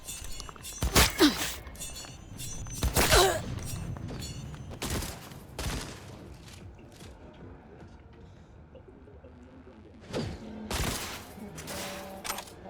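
Sharp, loud gunshots crack out in scattered single shots and short bursts during a video game shootout, separated by quieter stretches with faint movement.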